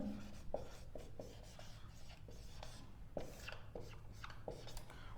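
Writing on a board in a quiet room. Short, soft scratching strokes tick in irregular bursts, close and faint over a low background hum.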